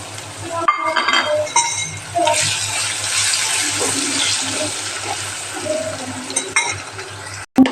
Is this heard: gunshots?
no